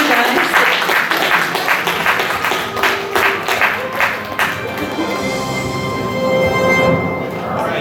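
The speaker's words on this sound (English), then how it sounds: "give a round of applause, guys" Convention crowd at an anime con game show claps and cheers loudly, the applause thinning and fading toward the end while tonal background sound lingers.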